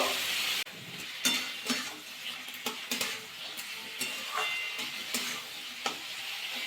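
Vegetables frying lightly in a pan on the stove for a bottle gourd greens dish, a steady close sizzle broken by repeated clinks and scrapes of a spoon stirring against the pan.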